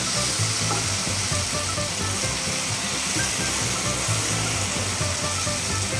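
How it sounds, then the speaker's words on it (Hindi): Spice masala frying in a pan with a continuous hissing sizzle and dense crackle, steady and fairly close, with no one speaking. "मसाला अच्छे से फ्राई हो चुका है, कलर भी इसका चेंज हो गया है"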